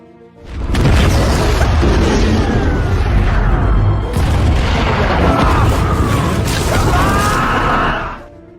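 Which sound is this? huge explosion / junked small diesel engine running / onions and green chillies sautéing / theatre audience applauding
huge explosion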